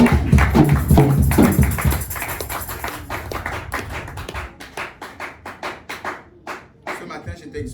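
Congregation at a church service clapping in praise, dense rhythmic applause loud at first and then settling into steadier, sparser claps over a low murmur of voices.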